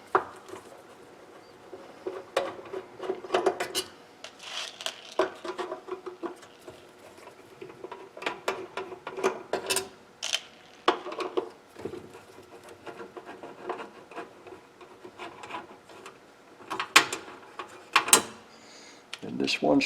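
Small screws being backed out of the cover of a Lenze EVS9426 ES drive, giving quiet irregular metallic clicks and ratcheting ticks in short bursts, close by, with no talking.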